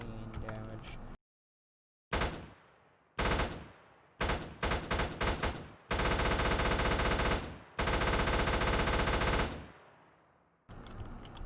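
An M249 machine gun fires in a Modern Warfare mod video game: loud, close bursts of rapid automatic fire of varying length, the longest running about two seconds, separated by short silent gaps.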